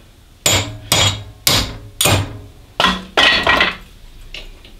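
A hammer taps a jammed metal bolt out of a part. Six or seven crisp, ringing metallic strikes land about half a second apart at close range, each with a brief bright decay.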